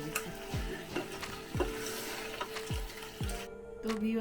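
A spatula stirs crab bhuna in a frying pan with a steady rhythm of about six scraping strokes, each a short rasp against the metal, over a soft continuous sizzle.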